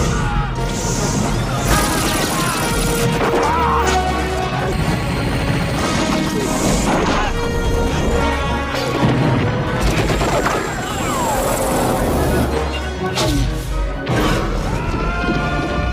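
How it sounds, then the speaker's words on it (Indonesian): Film battlefield chaos with explosion after explosion, loud booming blasts, crashes and bursts of gunfire layered over a dense, continuous roar of dramatic music and effects, sustained throughout at full intensity. "Ledakan demi ledakan mengguncang medan perang."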